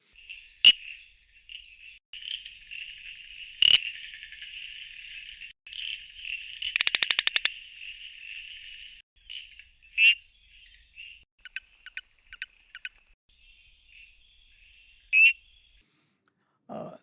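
Pseudophilautus amboli frog giving territorial calls, a series of repeated high buzzing trills and short sharp clicks, some notes long and pulsed, others brief, close and clear against a quiet night background.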